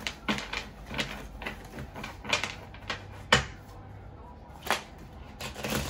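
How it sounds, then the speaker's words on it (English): A deck of playing cards being shuffled by hand, giving a run of quick crisp riffling and snapping bursts with short pauses, close and fairly loud, with no talking. "I'm going to shuffle the cards."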